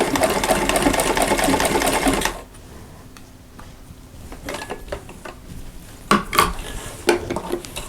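A sewing machine runs fast and loud for about two seconds while back stitching a fabric mug rug, then stops, followed by quieter clicks and fabric handling.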